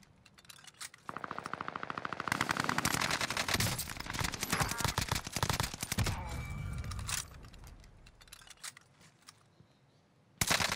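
Rapid automatic gunfire in the shooter game Warzone, dense bursts of rattling shots over several seconds with brief pauses and a sharp final blast, loud and close.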